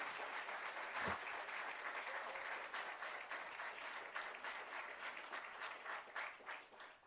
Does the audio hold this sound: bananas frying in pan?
no